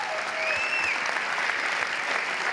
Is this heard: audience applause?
yes